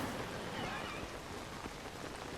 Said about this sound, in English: So it's just gonna be raining all day.